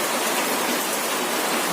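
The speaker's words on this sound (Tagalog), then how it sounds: "Ito, lumalakas na naman ang ulan." Heavy rain pouring onto a house roof during a typhoon in Bicol, a dense, steady roar of hissing noise, loud and close, with no voices.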